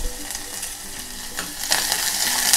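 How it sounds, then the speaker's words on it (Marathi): Chopped onion and curry leaves hit hot oil in a pan for a spicy Konkan-style potato dish, and a broad hiss swells louder toward the end, steady and close with no voices. "आता तेल तापलं आहे, बाकी काही फुडलेला हा कांदा घालायचा आणि कढीपत्त्याची पानं"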